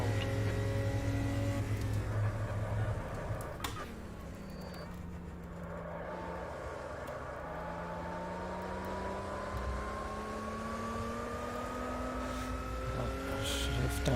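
An Opala Stock 86 race car from 1986 in Automobilista VR at Estoril 1988 drones steadily, its engine pitch falling under braking and downshifts, then rising smoothly as it accelerates out of a corner, heard from inside at moderate volume.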